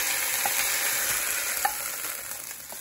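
Pieces of chicken fry in a slow cooker pot with a steady, close, crackling sizzle and a few sharper pops, with no voices.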